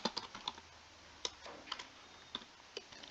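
Print() code typed on a computer keyboard: crisp, distinct key clicks in short irregular runs, close and fairly quiet, with no voices.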